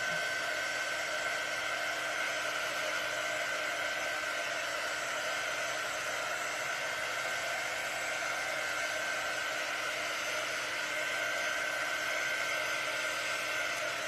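A hair dryer or heat tool blows steadily while drying a pumpkin craft project, a constant close whooshing hiss that holds unbroken throughout.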